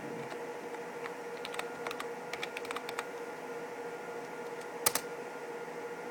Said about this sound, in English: Now we're going to go ahead and type in that password.